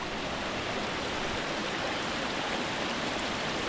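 Steady rushing water of a spring-fed mountain stream, a dense continuous broadband wash with no pauses, fairly close and unbroken throughout.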